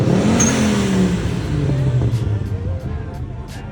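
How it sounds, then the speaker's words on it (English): A turbocharged car at a cars-and-coffee meet revs and lets off, its engine note falling away with a sharp hiss and chatter from the blow-off valve, loud and near, with crowd noise around. "just listen to the blow-off valve from that thing"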